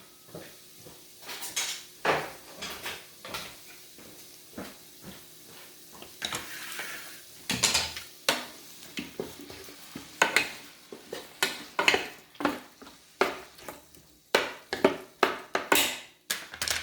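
Garlic shrimp cooking in a pan with white wine, sugar and pepper, a quiet sizzle under repeated clanks and scrapes of a utensil against the pan, irregular and close.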